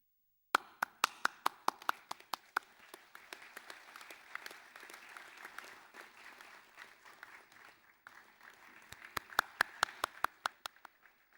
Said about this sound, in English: I'd like graduands to stand, applaud those on stage